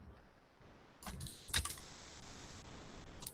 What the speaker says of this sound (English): I am now typing my email over here.